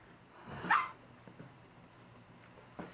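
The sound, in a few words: dog barking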